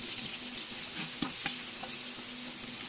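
Onion and garlic sauté in a pan with a steady, even hiss of frying oil, broken by two brief clicks of a utensil and no voices.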